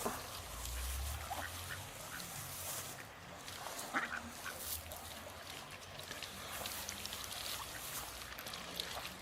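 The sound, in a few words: ducks quacking at the river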